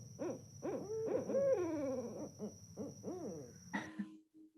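Two owls hoot in a duet, the larger female giving low-pitched calls woven with rapid higher hooting from its partner. The calls are clear and close over a faint steady tone.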